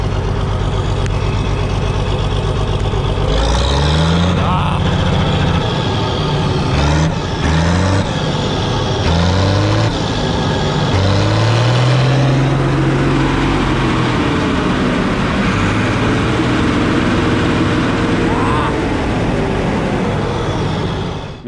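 Old Bizon combine harvester diesel engine cranked and started after winter, loud close rumble with rising and falling pitch sweeps as it catches and revs, continuous heavy running throughout.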